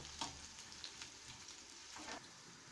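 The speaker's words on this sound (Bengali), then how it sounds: "চপড অনিয়ন এবং চপড গার্লিকটাকে দিয়ে খুবই সুন্দর রোস্ট কালার করে ভেজে নেব" Chopped onion and garlic fry in a pan for a Bengali vegetarian mixed vegetable curry, a soft, steady sizzle with a few faint stirring scrapes and no talking.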